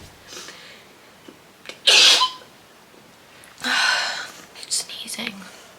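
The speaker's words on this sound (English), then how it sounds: "Sneezing." Two sharp sneezes burst out up close, a few seconds apart, with quiet breathy sounds and a soft whisper around them.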